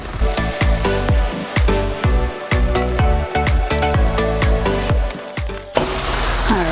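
Ground meat sizzles loudly and steadily in a very large frying pan during meal prep, a dense continuous crackle with occasional sharper pops and stirring scrapes, with no talking.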